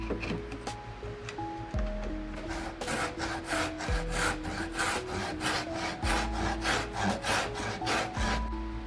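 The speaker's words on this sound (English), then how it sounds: "While everything is still square, it's a lot easier to cut this angle." A hand saw cutting an angle through a square wooden block for a fishing glide bait; rhythmic back-and-forth rasping strokes, close and steady, with a quiet tonal hum underneath.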